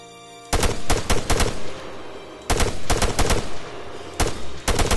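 Arma 3 gunfire crashes out in loud, close bursts of rapid automatic shots, three clusters separated by short pauses, with no one talking over it.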